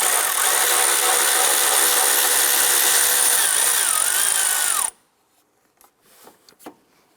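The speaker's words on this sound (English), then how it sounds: "We're going to go ahead and remove the 10mm bolt here on the top portion of the" A powered wrench runs on a 10mm bolt atop the windshield washer reservoir of a 2015-2020 Cadillac Escalade. It gives about five seconds of loud steady whine, then stops abruptly, followed by a few faint clicks and taps.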